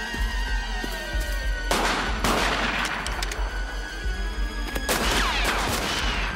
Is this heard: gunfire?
yes